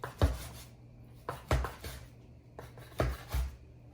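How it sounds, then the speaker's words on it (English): Bacon chopped with a knife on a board, several sharp distinct chops in uneven pairs, close and clear with quiet gaps between. "just like I want to do is chop up some bacon"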